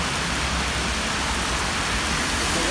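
Heavy rain pours down on a Barcelona street, a dense, continuous hiss of water striking surfaces, loud and unbroken with no voices.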